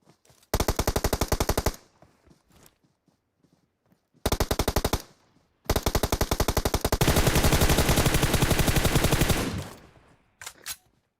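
Long bursts of rapid automatic gunfire in PUBG Mobile, loud and close, separated by short pauses, with one sustained stretch of continuous firing and a few scattered shots at the end.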